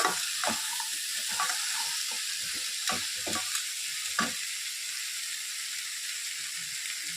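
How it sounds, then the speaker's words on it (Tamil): Crab masala sizzles steadily in a pan while being stirred, with scraping and clinking of a spoon early on and a constant frying hiss throughout. "நல்லா எல்லாத்தையும் மிக்ஸ் பண்ணி நல்லா வதக்கணும்."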